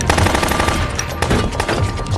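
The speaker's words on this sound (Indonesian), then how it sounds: "sehingga baku tembak pun kembali terjadi." Gunfire erupts in a film shootout with mafia gunmen, with rapid automatic bursts and dense overlapping shots rattling loud and continuous throughout.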